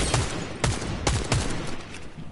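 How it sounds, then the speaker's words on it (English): Four sharp gunshots in a video game as enemies fire at the player, evenly spaced and fairly close, with no voices. "That's crazy how they're shooting me"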